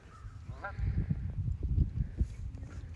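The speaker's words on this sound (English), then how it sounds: "There's a bunch of geese over there. They're awful noisy." Geese honking near a pond, a cluster of rough calls bunching in the middle, moderately close and mixed with outdoor rustle.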